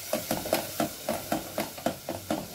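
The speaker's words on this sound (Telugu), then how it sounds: "కొంచెం మీడియంలో పెట్టుకుని వేయించుకోవాలి." Masala for a mushroom curry frying over medium heat in a pan, with soft continuous sizzling broken by regular scraping stirs about every quarter second, close and steady, with no talking.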